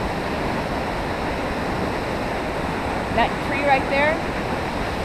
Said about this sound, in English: Here we are approaching the bottom of Vernal Fall